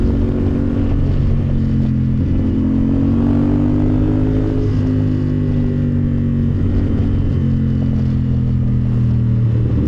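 Riding a CF Moto 450 SR motorcycle, with loud, constant wind rush buffeting the helmet over a steady engine hum whose pitch shifts gently as the rider accelerates.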